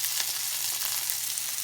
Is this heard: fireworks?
no